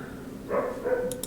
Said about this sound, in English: I'm sorry if you can hear my dogs bark in the background.